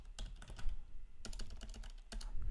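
Quick, steady keystrokes on a computer keyboard as a short message is typed, the clicks close and clear, coming in two bursts separated by a brief pause.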